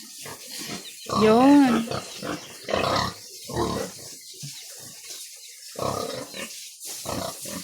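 Sow on a pig farm grunting and squealing in loud bursts, one high rising squeal early on, then lower grunts scattered between people talking nearby during insemination of the breeding pig.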